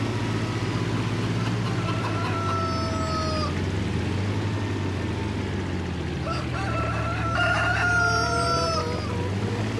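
Rooster crowing and chickens clucking in the Farming Simulator 25 farm game, with two drawn-out crows over a steady low engine-like hum, the second crow louder near the end.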